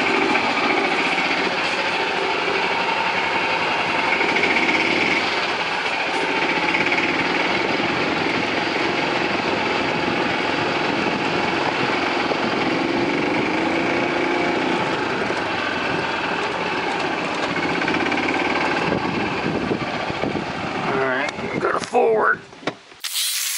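A 2008 Yamaha G29 gas golf cart engine, with a new clutch kit and the idle raised a few hundred RPM, runs with a steady, loud buzzing drone for about twenty seconds before it winds down and stops with a few clunks.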